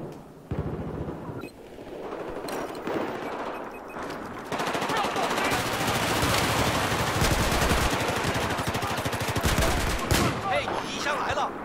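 Gunfire in a Battlefield 4 multiplayer match: sustained automatic weapon fire and booming shots build into a dense, loud barrage, while a player talks over the action.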